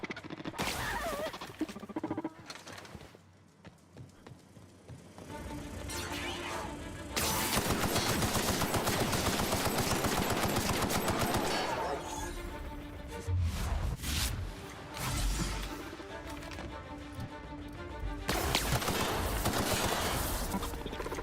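Gunfire in a video game played on hard difficulty, with bursts of shots and loud stretches of steady firing that come and go over the span, with quieter gaps between them.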